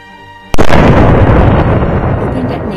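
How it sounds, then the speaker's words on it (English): A loud open detonation of unserviceable ammunition: one sudden heavy blast after a quiet moment, followed by a long, rumbling roar that slowly fades. "Open detonation involves the planning and execution of a scheduled detonation by highly trained subject matter experts to deploy an explosion of unserviceable ammunition"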